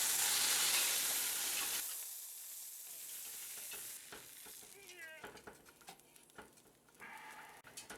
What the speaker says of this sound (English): we're ready to sear the pork shoulder